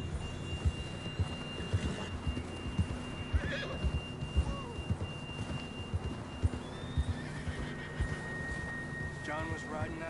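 A horse in Red Dead Redemption 2 whinnies among steady clip-clop hoofbeats, with game ambience behind. Faint voices talk now and then.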